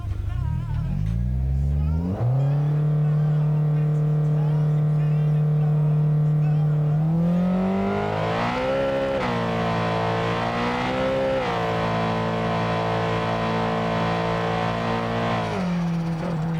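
A car engine in the BeamNG drag racing game revs up hard and climbs through gears, with a steady loud drone and repeated pitch rises as it shifts, running continuously from near the start to the end.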